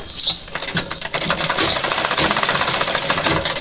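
A sewing machine stitches elastic onto fabric, running loud and close in a dense, rapid mechanical chatter that holds steady after a few brief starts.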